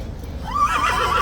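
A King's horse at Horse Guards neighs in the snow, a close, loud rising whinny that rides over a steady low rumble of outdoor background noise.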